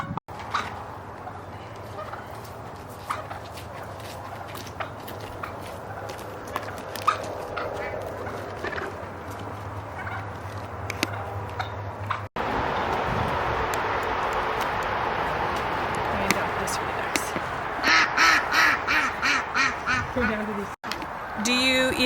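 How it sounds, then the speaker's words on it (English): Poultry on a farm with around 80 chickens, clucking and squawking calls scattered through steady outdoor background noise, with a denser, louder stretch of bird calls toward the end. "it really sucks to be feeding like 80 chickens and ration eggs"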